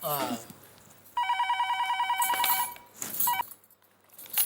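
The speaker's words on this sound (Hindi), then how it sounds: "फोन आया।" A telephone rings in a domestic sitcom scene, a steady electronic trill in two bursts, the first long and the second brief, with someone speaking before and between them.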